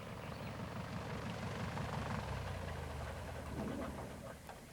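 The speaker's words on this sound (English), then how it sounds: "The plane is bringing in fresh supplies because it looks as if they're in for a long wait." A light aircraft flies in toward a remote airstrip with no roads around, its engine droning steadily and fairly loud throughout before easing slightly at the end.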